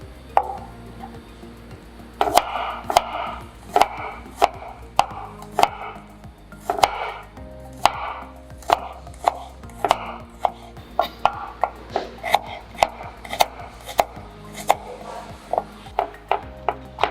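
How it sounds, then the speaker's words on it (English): Shallots chopped with a knife on a cutting board, a long run of crisp, close knocks at a brisk, fairly steady rhythm, with no talking. "Chopped shallots."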